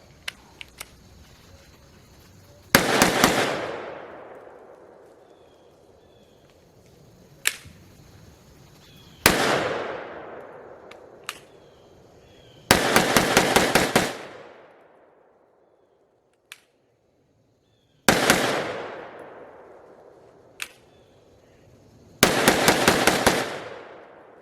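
A Kel-Tec PMR-30 pistol fires in several bursts of rapid shots, each string loud and sharp with ringing echo, separated by pauses and a few isolated single clicks, with no talking.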